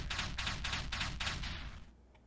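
Titan cannons in the Mindustry strategy game fire five rapid booming shots in an even rhythm, loud and close, then the volleys stop and fade to quiet.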